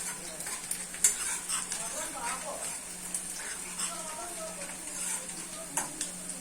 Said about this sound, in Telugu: ఆనియన్స్ అయితే వేగుతున్నాయి ఫ్రెండ్స్.